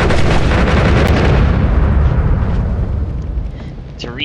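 Wand spells firing in the game Noita, a cast-delay-free spitterball barrage producing a dense, loud, continuous roar of rapid bursts that gradually thins out toward the end.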